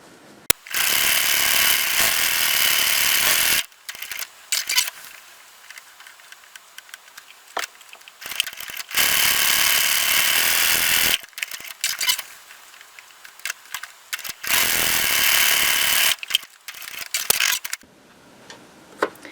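A sewing machine quilts thin batting onto a bag lining in three long, steady runs of loud mechanical stitching, separated by quieter pauses with small handling clicks.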